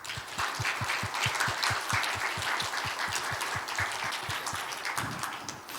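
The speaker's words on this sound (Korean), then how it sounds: "박수로 한번 환영하겠습니다." A church congregation at a Sunday service claps in welcome for a newly registered member, a moderate, fairly even patter of many hands, with a few sharper rhythmic beats running beneath it.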